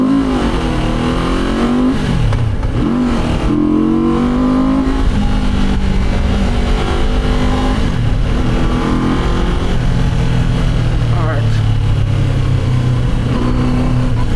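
A Benda Dark Flag 500 V4 motorcycle engine revs loudly and close, with rising and falling pitch sweeps over a steady rumbling idle, continuous throughout with no talking.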